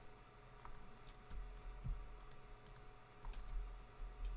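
A computer mouse clicks in short, crisp taps, some in quick pairs, scattered across a few seconds over a faint background hum while Roblox Da Hood is played.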